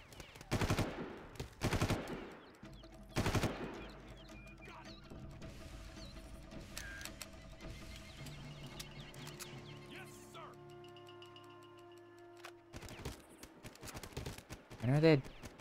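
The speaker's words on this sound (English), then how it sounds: "I don't know where I'm being shot at from." Enemy gunfire in the video game Far Cry, with several loud broadband bursts early, then scattered quieter shots under a low game ambience and a louder burst near the end.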